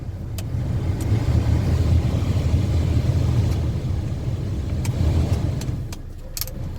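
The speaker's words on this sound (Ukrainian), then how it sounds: "Заводимо автомобіль, запускаємо." A Chevrolet Lacetti car engine runs at a steady rumbling idle nearby, the low drone swelling slightly and easing toward the end, with a few faint clicks over it.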